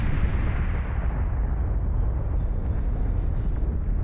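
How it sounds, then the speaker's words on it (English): A nuclear missile detonates in the Beyond All Reason strategy game, a sustained deep rumbling roar that fills the whole stretch and slowly fades in its upper edge, loud and unbroken by speech. "Nuclear missile is away."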